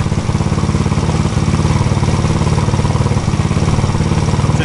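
A fuel-injected GY6 171cc engine fitted in a Honda Ruckus runs steadily at low RPM with a loud, close, rapid chugging pulse and mechanical clatter throughout, no voices.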